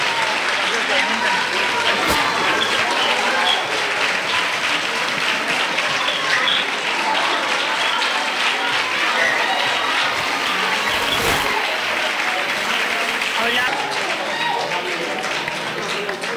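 Loud, dense applause from a large audience at a ceremony electing the Falleres Majors, sustained without a break and with a few louder claps standing out.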